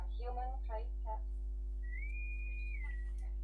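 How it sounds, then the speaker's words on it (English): A person whistles with the mouth in a Star Trek episode, a single sustained rising then falling tone after a short stretch of speech, over a steady low hum. "The whistle."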